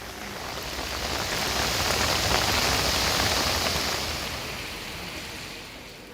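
Steady rain pours down outdoors during a monsoon shower in Gujarat, a dense, even hiss that swells slightly and then eases, with no voices.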